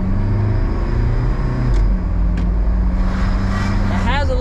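A Mitsubishi Delica's engine rumbles steadily and loudly from inside the cabin as it accelerates, with a low droning hum that rises slightly toward the end.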